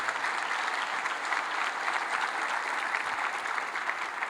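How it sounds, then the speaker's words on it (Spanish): A church congregation applauds during a sermon, a dense, even wash of clapping held at moderate loudness throughout, with no voices over it. "Fuerte ese aplauso al Señor."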